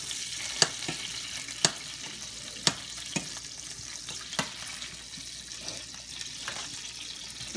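Butter melting in a hot pan for seafood rice gives a steady close sizzle, with several sharp pops and spits spaced a second or so apart and no talking.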